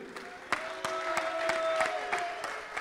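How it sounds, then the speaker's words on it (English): Brief applause for a bronze medal winner at a para shooting rifle event, scattered clapping from a modest crowd with a few sharp claps standing out and a faint steady tone underneath. "Big applause to Mr. Jean-Louis Michaud."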